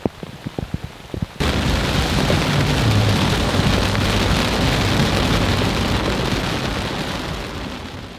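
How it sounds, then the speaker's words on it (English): Heavy rain in Lanzarote starts abruptly after a few scattered drops and then pours as a loud, dense, steady hiss that eases slightly toward the end. "of course, I always bring the rain."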